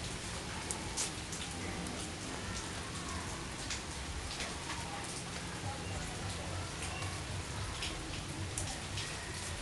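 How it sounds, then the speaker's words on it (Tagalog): Steady rain falls outside a house, a dense, even patter that persists throughout without pause. "Ayan po, umuulan."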